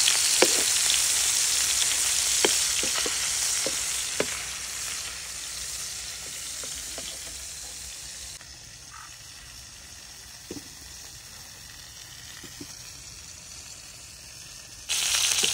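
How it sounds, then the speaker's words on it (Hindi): Fish pieces frying in a pan, browning on one side before being turned, give a steady close hiss of oil with scattered small pops and crackles, dropping slightly quieter partway through before the sizzle swells again at the end. "मछली को हल्का हल्का ब्राउन होने तक फ्राई करेंगे और अभी दूसरी साइड से भी थोड़ी देर के लिए फ्राई कर लेंगे।"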